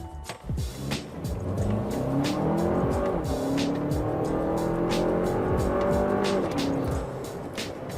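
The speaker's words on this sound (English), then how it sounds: "let's do one from a stop up to 80 kilometers an hour in the 4-cylinder" A four-cylinder Lexus RX accelerates hard from a standstill up to 80 km/h, its engine note climbing through rising revs with audible gear changes, loud and close, then easing off near the end.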